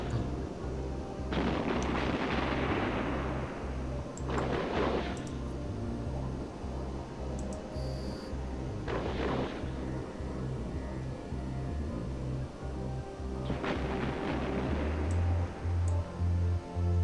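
Ship weapons fire in the space game EVE Online: repeated heavy booming shots at irregular intervals over a steady low mechanical drone, loud and without voices.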